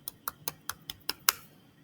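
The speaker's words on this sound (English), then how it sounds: "Let me see your bird chirp clap." Seven light, crisp claps from a children's clapping game, evenly spaced in a quick steady rhythm, the last slightly louder, close and clear with no talk over them.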